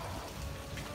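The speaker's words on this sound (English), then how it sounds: "it is a rainy April day." Rain on a wet April day pours in a steady, dense wash of patter, close and even across a brief moment, with no voices over it.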